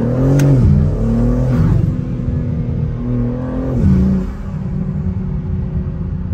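Loud, close intake roar of a BMW G80 M3/M4 fitted with ARM Motorsports intakes, revving up in two sharp surges with a quick turbo blow-off whoosh, then settling into a rumbling idle.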